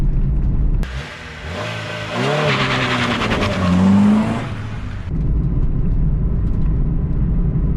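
A $500 Honda Civic is driven with its engine revving and accelerating loudly, the pitch rising through the gears before easing off, and a voice is briefly heard.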